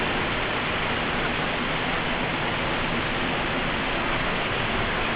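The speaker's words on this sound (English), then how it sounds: "I don't know if you can hear that waterfall to my left coming through the camera" A waterfall off to one side of a stairway on a bush walk, a steady, even rushing roar that holds unchanged throughout, with no voices.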